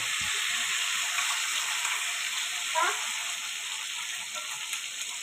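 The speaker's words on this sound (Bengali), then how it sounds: "আর আমি পেস্ট করা পুরো মশলাটা এর মধ্যে ঢেলে দেব।" A spice paste goes into hot oil in a pan for a chicken dish, raising a loud, continuous sizzle with a brief splutter as it lands.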